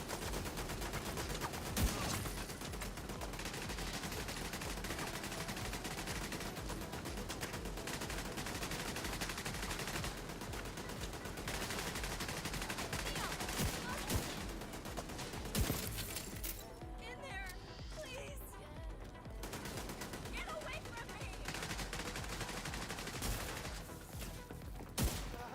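Turret gunfire in The Division 2, sustained bursts of automatic shots and impacts layered over game sounds and a talking voice, dipping briefly partway through before the firing resumes.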